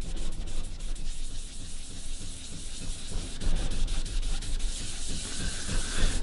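Sanding the finish off a quilted maple carved-top guitar body, a continuous close abrasive rasping with rhythmic strokes, loud and steady for the whole stretch, with no voices.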